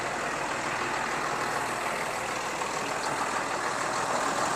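A farm tractor engine idles steadily, a continuous loud rumble with broadband noise that holds constant and close for the whole stretch, with no voices.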